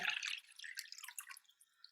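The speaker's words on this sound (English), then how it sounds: "I've just filled that jug up with water" Water splashes into a jug as a short, bright trickle of drips, loud at first and then thinning to faint scattered drops, with no speech.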